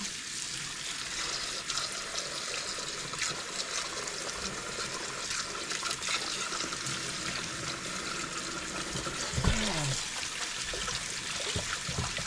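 Water trickles and pours steadily while a helmet's removable lining is rinsed clean of shampoo by hand, a continuous close wash of splashing sound with a brief louder gurgle near the end.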